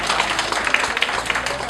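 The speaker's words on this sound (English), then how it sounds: "Everybody, can you give Shred a warm round of applause for trying for us today?" An audience at a dog show in the Saratoga Library applauds a dog named Shred, giving dense, continuous clapping from many hands at a moderate, fairly distant level, with no voices standing out.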